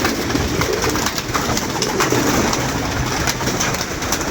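A dense flock of pigeons coos continuously and loudly up close, the overlapping calls forming a thick, unbroken murmur.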